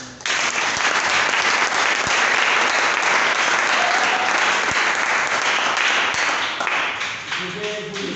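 A church congregation applauds the Lord with loud, dense, continuous clapping that holds steady throughout and eases slightly toward the end.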